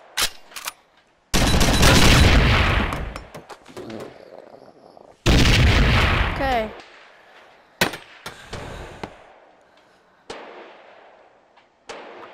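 Sniper rifle shots crack out in Gun Club VR: two loud, sharp blasts with long ringing tails, separated by several seconds, with smaller clicks and clacks of weapon handling between them.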